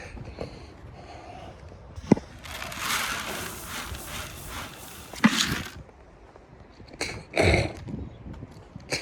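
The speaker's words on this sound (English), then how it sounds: "Look at how the horses just tear up the hay." Friesian horses munching and tearing at hay up close, with rustling crunches, a snort and scattered bumps between quieter moments.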